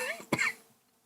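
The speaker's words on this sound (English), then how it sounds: "Sorry for coughing." A single sharp cough from a person who says they are getting sick, close and fairly loud, with a short throat-clearing rasp, then quiet.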